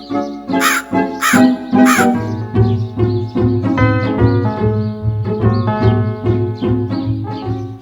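A crow caws loudly three times in quick succession, followed by more harsh calls continuing in an uneven rhythm close by.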